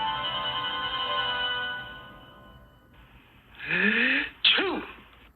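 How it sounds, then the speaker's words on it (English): NBC's animated peacock logo gives a single cartoon sneeze following a steady musical chord, with a brief sharp burst near the end. "A year later, the sneezing peacock appeared"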